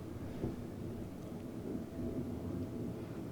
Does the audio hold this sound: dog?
no